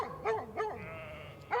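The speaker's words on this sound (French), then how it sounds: "premiers aboiements." A four-year-old Pyrenean mountain dog guarding a sheep flock barks three times, close and loud, while a sheep gives a long bleat between the barks.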